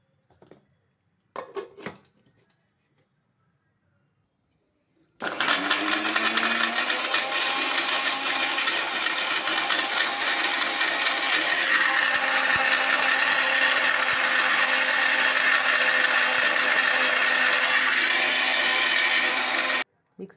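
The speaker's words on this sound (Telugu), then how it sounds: "ఆ కొబ్బరి పీసెస్ చేసుకొని ఫస్ట్ మిక్సీ పట్టుకోవాలి." A kitchen mixer grinder grinds fresh coconut pieces, running loud and steady for about fifteen seconds and then stopping, with a few faint knocks just before it starts.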